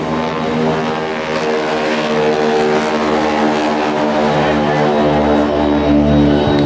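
A loud propeller aircraft drones overhead with a steady, throbbing engine hum that holds strong throughout, no voices present.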